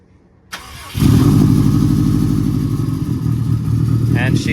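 A built Subaru WRX running 27 psi of boost on pump gas pulls hard in fourth gear, its engine growling loud and steady from close range after a brief starting thump.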